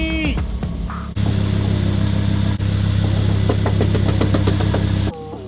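A Lamborghini supercar engine runs with a loud, steady low drone and rapid mechanical pulsing, the sound cutting in abruptly and holding before dropping away near the end.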